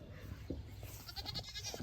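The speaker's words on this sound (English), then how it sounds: "I think the goats are going to love this." Goats in a barn bleat in short, wavering cries over a low background rumble, fairly close and loud, with several calls running together near the end.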